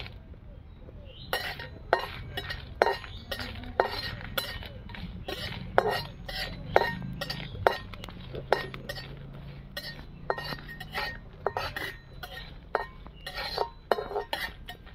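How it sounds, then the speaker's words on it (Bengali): Dried red chillies are dry-roasted in a hot wok for a sweet-sour mango pickle, with a steady run of sharp metallic scrapes and clinks from the spatula against the pan, close and fairly regular. "এগুলোকে কিন্তু আমি শুকনো কড়াই ভেজে নেব।"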